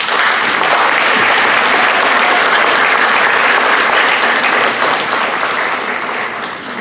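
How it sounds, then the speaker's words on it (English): An audience at a high school spring band concert applauding, loud sustained clapping from a large crowd that holds steady and tapers slightly toward the end. "So give yourselves a round of applause, please"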